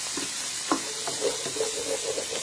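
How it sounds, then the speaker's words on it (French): Onions caramelizing in a pan, a quiet steady sizzle with faint scraping from stirring, close and alone. "vous voyez, les oignons sont en train de caraméliser là."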